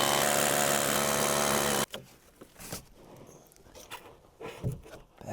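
Power drill boring a deep half-inch hole into wood on a cabin bridge build, a loud continuous whine that cuts off abruptly, followed by quieter knocks and handling sounds.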